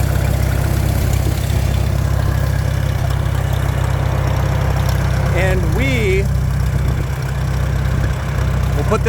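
An old machine's engine idles steadily with a low, constant drone and throb throughout, close and loud, while a voice briefly speaks partway through.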